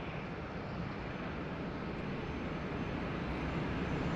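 An airliner departs Sydney Airport during a thunderstorm, its engines a steady, broad roar that fills the scene from start to finish at moderate distance, with no voices over it.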